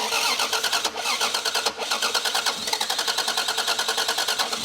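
Blown Toyota 7M Supra straight-six, swapped into an S13, running loud and close with a rapid, rhythmic pulsing rumble and a couple of brief dips as it revs, no voices over it.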